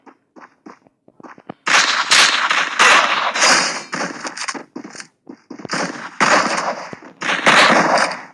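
Gunfire from the Free Fire video game in lone wolf mode: loud, close volleys of rapid shots in several bursts, separated by short pauses and quieter single cracks.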